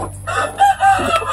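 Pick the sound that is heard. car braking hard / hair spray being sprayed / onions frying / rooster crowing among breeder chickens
rooster crowing among breeder chickens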